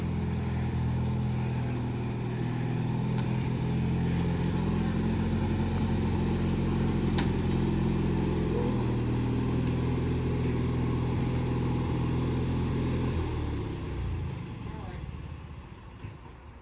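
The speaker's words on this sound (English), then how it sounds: "So they're backing up the wagon and they're gonna put the motor in it." Comet station wagon backing up in a garage during restoration: a steady, loud engine idle rumble held for most of the clip, then easing off toward the end, with no talking.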